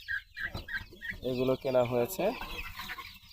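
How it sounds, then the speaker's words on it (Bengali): Chickens on a small poultry farm cluck in short repeated bursts, nearby and moderately loud, with someone speaking briefly over them. "মুরগির খামার"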